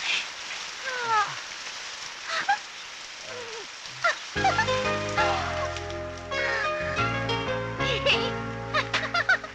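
Rain falls in a steady patter that picks up partway through, under chirpy voices and a music bed that enters midway.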